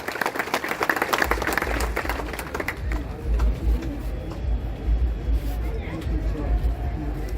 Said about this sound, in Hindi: एक बार जोरदार ताली से दोनों डॉक्टरों का स्वागत करें।